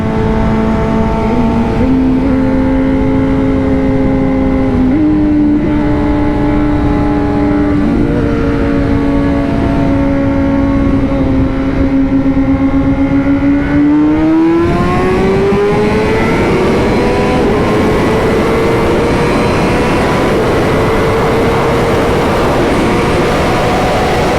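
A 2021 BMW M 1000 RR and a Honda CBR1000RR-R Fireblade SP race side by side, their loud, steady engine howls climbing in pitch as they accelerate hard, continuous and close throughout with no talk.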